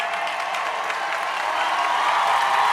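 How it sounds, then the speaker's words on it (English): Dense, steady roar of a high school football stadium crowd cheering at halftime of a state semifinal game, a continuous wash of voices and scattered clapping that swells slightly toward the end. "Head coach trying to encourage the crowd to be loud as they go into the locker room"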